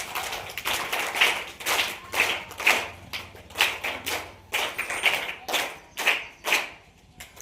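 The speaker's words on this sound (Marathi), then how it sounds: "एकदा ताईंकरता जोरदार टाळ्या वाजवूया" An audience at a residential children's camp claps for an honoured elderly woman with rhythmic, fairly close claps in regular bursts, moderately loud, no talking.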